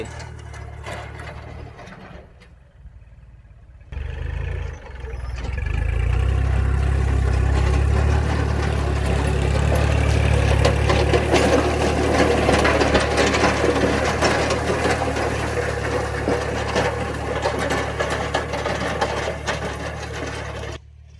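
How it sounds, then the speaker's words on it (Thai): A tractor pulling a rotary tiller churning soil in a sugarcane field: a steady low engine drone with a rough, churning mechanical clatter on top, running continuously and fairly loud after a brief quieter start. "ด้านหลังของรถไถก็จะเป็นโรตารี่นะครับ ปั่นดิน"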